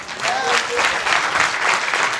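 An audience at a church gathering bursts into steady, dense applause, a loud continuous wash of many hands clapping together for a couple of seconds.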